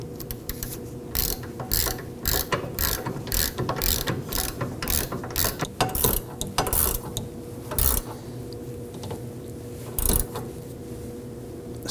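A ratchet snugs down 15mm nuts on the rear sway bar links of a 2005-2009 Subaru Legacy, giving repeated bursts of close, crisp clicking with short pauses between strokes and no talking.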